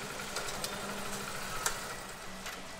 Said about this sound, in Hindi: चलो बाइक को पहले बंद कर देता हूँ।